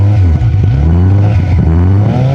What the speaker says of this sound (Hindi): मैं आपको इसको स्टार्ट करके इसका एग्जॉस्ट नोट सुनाता हूँ।